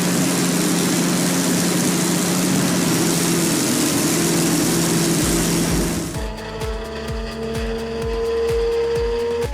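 A loud roaring engine with rushing noise shifts into a rapid, rhythmic chugging beat as an Antonov aircraft's propeller engine catches and runs, steady and close.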